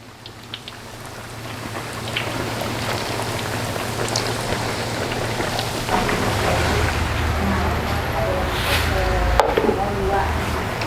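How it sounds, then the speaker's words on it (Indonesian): Breaded chicken katsu deep-fries in hot oil at large batch scale, giving a dense, steady crackling sizzle that swells louder over about ten seconds, with scattered sharper pops and some voices underneath. "Nah, digoreng dengan minyak yang cukup panas ya."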